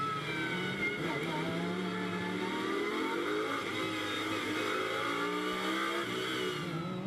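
Lamborghini Super Trofeo race cars at Spa-Francorchamps sweeping through Blanchimont in a tight pack, a loud steady engine roar with shifting pitch as several cars pass together.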